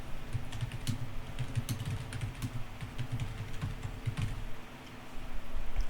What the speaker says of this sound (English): So let me just type that in here real quick.